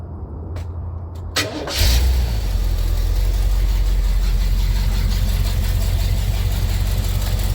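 A Cadillac engine starts after a few clicks and settles into a loud, steady idle, its exhaust rumbling from underneath with a manifold leak.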